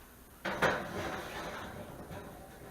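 Cast iron bread pans are slid into an oven with a close, dull metallic clunk and scrape, followed by a soft sustained rumble.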